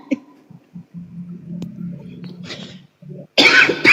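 A single sharp cough bursts out at the end, loud and close, after a stretch of faint murmuring and low voiced sounds.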